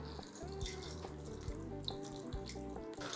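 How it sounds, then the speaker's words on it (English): Water runs steadily into a cooking pot for a Nigerian meat pie filling, a continuous faint stream with light clinks and kitchen handling noises over the top. "And then we're going to add a little bit of water."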